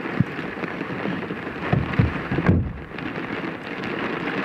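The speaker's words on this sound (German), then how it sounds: "Das ist ja richtig wie normaler Regen. Also was heißt normaler Regen? Schon fast starke Regen hier." Heavy rain falling in a thunderstorm, a dense, loud, steady rush close by, with a few low thumps and rumbles breaking through the constant downpour.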